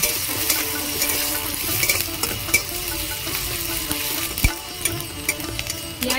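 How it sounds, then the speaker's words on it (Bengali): Chopped onion and green chilli frying lightly in oil in a pan give a continuous close sizzle, with a few sharp clinks from stirring and no voices. "পেঁয়াজ আর লঙ্কাটা আমি হালকা করে ভেজে নেব।"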